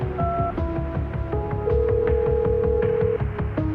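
Telephone sound effect in a Hindi audio story: a run of steady electronic tones, each holding briefly before shifting pitch, over a rhythmic pulsing background.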